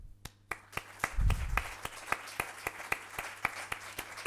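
Claps ring out at a medical conference session, sharp and evenly spaced in a slow, steady rhythm, fairly quiet, with a brief low thump partway through.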